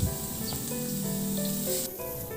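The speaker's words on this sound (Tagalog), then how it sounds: "Maglagay na ako ng mantika sa kawali, painitin at igisa na yung bawang." Garlic sautéing in hot oil in a wok, a steady close sizzle that runs alone throughout, with no one talking.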